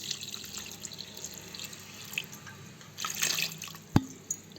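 Water trickles and splashes into a bowl of bonda batter with salt, curry leaves and coriander, with soft wet stirring sounds and a sharp clink near the end.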